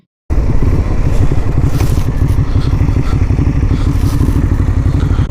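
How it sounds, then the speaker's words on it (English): A V4 motorcycle engine idles and burbles steadily up close, with a dense rapid low pulse running without pause throughout, joined now and then by faint clatter. "You can listen to this lovely V4 engine."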